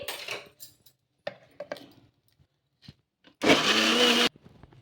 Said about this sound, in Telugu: ఇలా నీళ్ళు అనేది వేసుకొని ఇప్పుడు మిక్సీ పట్టేసుకోవాలి